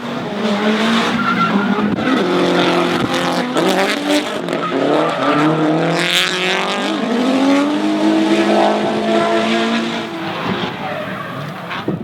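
A Nissan Skyline R34 drift car chases another at a D1NZ drifting championship round in Taupo, its engine roaring loud and continuous with long squealing tire skids and shifting revs throughout.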